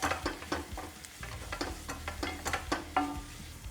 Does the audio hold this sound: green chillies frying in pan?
yes